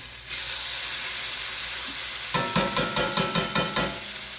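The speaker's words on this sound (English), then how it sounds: "I'm going to brown it on that side." Beef pot roast sears in a hot pot with a steady close hiss and sizzle, then a series of rhythmic scraping knocks as the meat is shifted and flipped, no talking.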